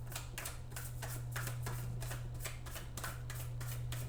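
Tarot cards shuffled by hand during a reading, a steady series of soft papery riffling bursts over a constant low electrical hum, close and fairly quiet.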